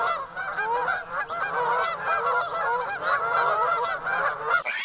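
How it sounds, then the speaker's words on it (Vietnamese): A goose honks over and over in a dense, steady run of loud, nasal calls, close and continuous for the whole stretch, with no talking. "Goose."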